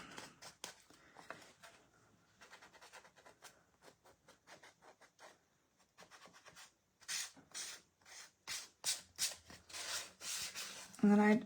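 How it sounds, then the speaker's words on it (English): Hand sanding with 220 grit sandpaper on a small painted craft piece, a votive holder stand, heard as soft rubbing and scratching strokes, faint at first and then louder and more rhythmic toward the end. "I just have a 220 grit sandpaper on there"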